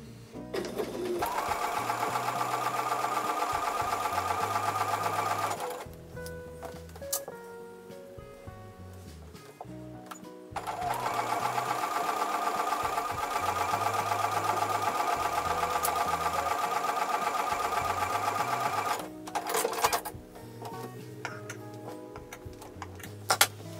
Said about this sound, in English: I'm going to take these over to the sewing machine and sew with a quarter inch seam